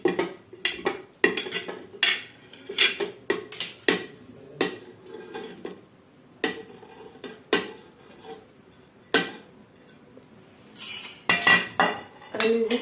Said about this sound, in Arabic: غادي نحطها في الكوكوط.